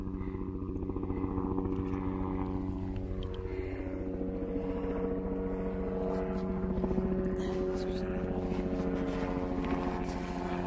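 A helicopter passes over an outdoor clay dig site, its engine and rotor making a steady, loud, droning hum with strong tonal layers that holds for the whole stretch.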